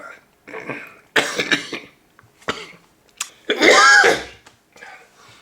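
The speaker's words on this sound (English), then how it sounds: "I'm coughing a fair bit more these days." A person coughs several times in short harsh bursts, with throat clearing and a heavier, louder cough fit toward the end, close to the microphone.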